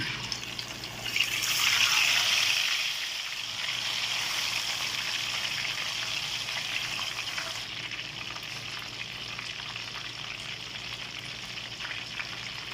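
Fish fries in oil with a steady broad hiss and bubbling, louder for the first few seconds and then settling into a constant sizzle that carries on throughout, with no talk.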